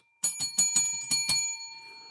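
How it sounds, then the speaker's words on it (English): A bright metallic bell rings six quick strikes in an even rhythm, each hit sharp and close, then the last ring fades into a lingering decay. "Ring that bell, baby."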